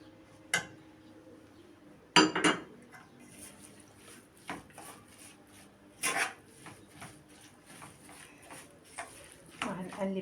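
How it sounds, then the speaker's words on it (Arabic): Eggplant is stirred in a pan with eggs and spices for an egg-and-eggplant bake. Scattered scrapes and clinks of a utensil against the pan come at irregular moments while someone talks over them. "هنقلب كله وهنكسر عليهم البيض ونحط التوابل."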